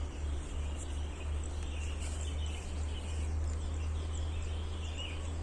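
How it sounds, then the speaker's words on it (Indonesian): Many birds calling at a hunting spot, a busy layer of high chirps and tweets over a constant low rumble, steady and moderately faint throughout. "saya sudah berada di lokasi yang dimana terdengar banyak suara burung"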